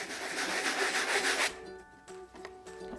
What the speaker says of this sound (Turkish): Ne kadar çok zımpara yaparsak o kadar daha fazla beyazlıklar ortaya çıkar